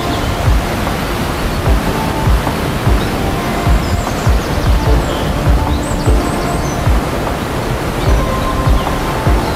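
A waterfall on a river roars steadily at close range, a dense, loud, unbroken rush of falling water filling the whole stretch without any voices.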